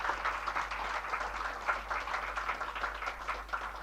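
Steady applause from an audience at an institute event for master trainers and young children, a dense continuous patter of clapping throughout.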